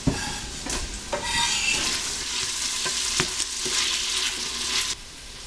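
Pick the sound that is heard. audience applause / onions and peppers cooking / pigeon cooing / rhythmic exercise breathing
onions and peppers cooking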